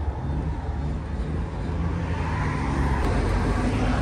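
A 10-ton pickup truck drives along a road, its engine and tyre noise forming a steady, moderately quiet rumble heard from inside the cab with no talking.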